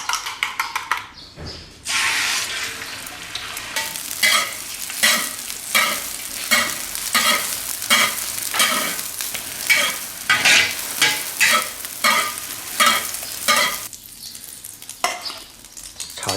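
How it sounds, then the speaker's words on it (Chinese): Eggs stir-fry in oil in a wok over a wood-fired pot stove, giving a loud, close, continuous sizzle broken by rhythmic scraping strokes of a spatula against the metal, with no talk. "炒鸡蛋的呀。"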